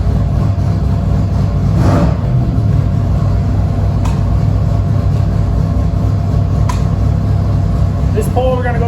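A 356 cubic inch Gen 1 small block street/strip engine on a dyno sweep from 4,000 to 6,000 rpm, a loud, dense, continuous roar rising steadily in pitch across the pull.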